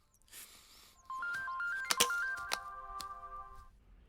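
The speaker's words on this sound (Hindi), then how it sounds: "अब फोन उठाओ।" A telephone ringtone in a Hindi-dubbed action film plays a bright electronic melody of stepped tones, starting after a second of near quiet and ringing steadily and clearly for about two and a half seconds with no talk over it.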